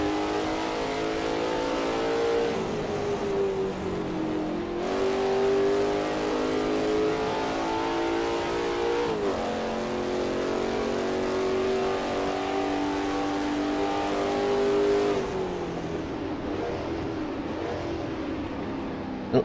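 Ford-engined Lola T70 MkII Spyder racer in a sim race at Road America, engine loud and close, revving up repeatedly through gear changes with brief drops in pitch between pulls, alone without talk.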